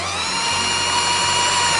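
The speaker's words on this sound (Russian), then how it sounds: "Если у вас нет электромясорубки, да, то воспользуйтесь дрелью." An electric drill drives an old Soviet meat grinder that has been converted to power operation, giving a steady, loud, continuous motor whine with a dip in pitch around midway.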